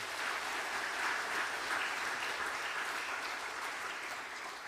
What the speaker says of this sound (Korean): 다시 한번 박수 한번 해주시겠습니다.